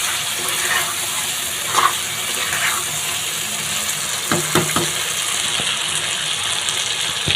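Potatoes sizzle and fry in hot spiced oil for a Bengali aloo dum while being stirred, a steady close hiss broken by a few scraping knocks of the spoon in the pan near the end.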